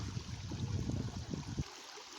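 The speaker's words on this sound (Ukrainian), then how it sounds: "Зараз Ярема буде приймати душ" Water running from a camp shower improvised from an artillery powder container at a mountain base camp, a steady close splashing rush that stops abruptly near the end.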